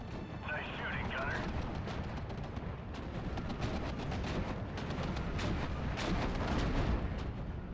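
Artillery and tank gunfire from the Steel Division II war game, a dense continuous barrage of booming shots and blasts with rumbling impacts throughout, loud, with faint battlefield voice lines underneath.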